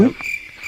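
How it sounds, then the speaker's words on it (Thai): At night in a damp field, with rain threatening, a low frog croak opens a very brief moment. A steady, shrill cricket trill carries on beneath it, loud and close. "เนี่ยมีเสียง กบเขียดร้องด้วย"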